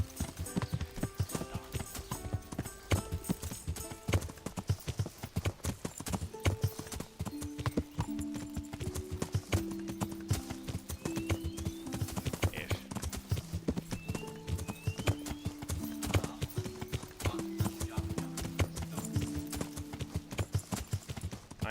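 Horse hooves clip-clop in a steady rhythm throughout in the medieval video game Kingdom Come Deliverance, with game music playing underneath and no talk.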